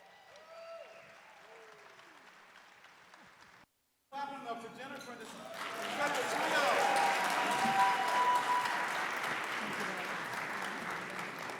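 Audience applause at a live awards-night gala, breaking out after a singer's performance; after a brief silent gap, a dense, loud wash of clapping builds and holds steady, with a voice speaking faintly at the start.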